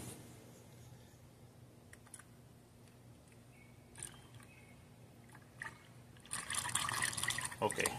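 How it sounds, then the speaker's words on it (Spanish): Coolant is poured into the reservoir tank of a 2012 Dodge Journey 3.6, a quiet liquid trickle with scattered drips and clicks that swells into a louder, steady pouring splash near the end. "llenamos bien acá lo que viene siendo el tanque"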